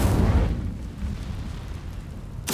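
Incendio fire spell in Hogwarts Legacy: a loud, deep burst of flame at the start that decays into a rumbling low roar, ending with a sharp crackling flare at the close.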